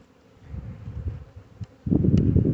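A low, dense buzz of many honey bees close by at the hive, steady at first and then swelling louder near the end, with no talking.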